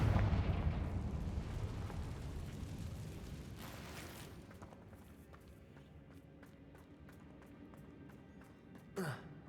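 A Confringo spell explosion in the Hogwarts Legacy video game bursts loudly at the start and rumbles away into fading debris, followed by light clicks and a brief whoosh near the end.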